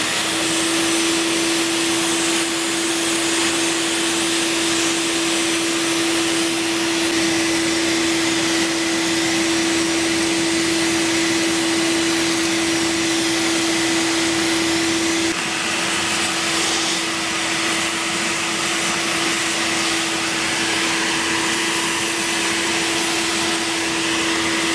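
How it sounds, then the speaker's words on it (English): A shop vac runs continuously while vacuuming the coils of an air conditioner condenser, a loud, steady motor whine with airy suction noise and a constant tonal hum, no talk. "this is the only tip I have for my vacuum, my shop vac"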